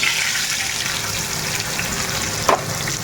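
Nigella seeds sizzle in hot oil in a pan, a steady close crackling hiss that runs the whole time, with one brief louder splutter near the end.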